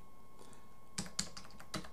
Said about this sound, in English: and just type in, you know,